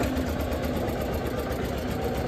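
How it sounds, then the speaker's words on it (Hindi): A tractor engine runs continuously while driving through a field to plough it, giving a steady, rumbling mechanical drone with a constant low throb and no breaks. "ट्रैक्टर चला रहा हूँ मैं"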